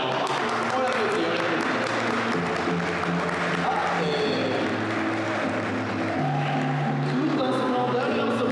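A crowd at a recognition gala applauds as an honoree is introduced, a steady wash of clapping running throughout beneath a voice and some tonal background sound.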